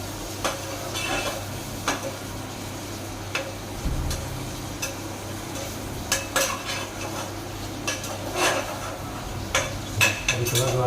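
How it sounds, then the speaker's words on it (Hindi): Tomatoes and peas get stirred in a pan for a soya vegetable pulao, with a spoon scraping and clinking against the metal in irregular taps and scrapes over a low cooking hiss, close by and with no talking. "टमाटर डालने के बाद हमें थोड़ा हल्का सा मिक्स कर देता हूँ"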